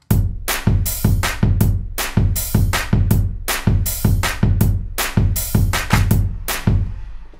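Chorus of a song recreated as an electronic arrangement in FL Studio, with a steady, bright, rhythmic pattern of punchy hits over a full bass line, loud and continuous without any vocals.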